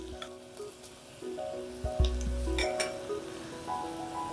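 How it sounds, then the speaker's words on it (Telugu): Onions frying gently in a pan for Mumbai street-style pav bhaji, a steady low sizzle with occasional clinks and stirring scrapes of a utensil against the pan, close and fairly quiet, no talking. "ఉల్లిపాయలు వేగుతుండగానే"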